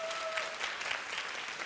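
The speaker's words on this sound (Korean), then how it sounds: "다시 한번 박수 한번 부탁합시다" Applause from a church youth group congregation, a steady dense patter of many hands clapping nearby that fills the short moment, with a faint tonal ring near the start.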